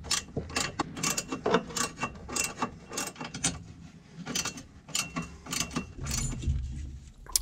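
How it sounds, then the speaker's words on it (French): A 13 mm wrench works the three bolts holding the shock absorber cup on an AC Shelby Cobra's front suspension, giving close, repeated metallic ratcheting clicks and scraping in uneven bursts with no talk. "avec ma clé de 13, je dévisse les 3 boulons qui retiennent la coupelle"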